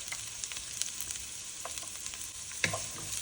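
Onion being added to a pan for ground pork, with garlic already in: a quiet, close sizzle with a few light clicks and one sharper clatter near the end, and no talking.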